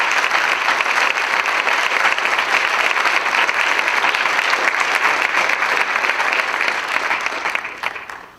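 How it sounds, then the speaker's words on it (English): An audience at a vegan festival panel discussion claps in sustained, dense applause, loud and even throughout before tapering off at the end. "If you'll give them a round of applause."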